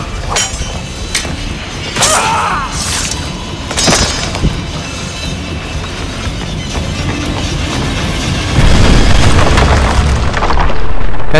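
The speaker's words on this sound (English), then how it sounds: "Dude's firing a cannon." A cannon fires in a scene from the Assassin's Creed Embers short film, with several loud booming blasts and clinks early on, then rumbling noise building toward the end.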